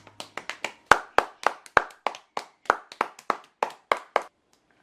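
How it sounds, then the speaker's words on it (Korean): Several people clap together in a home, about sixteen sharp, close claps in a steady brisk rhythm that stop cleanly, with no talking. "모두 박수!"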